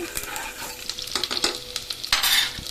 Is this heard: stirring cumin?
yes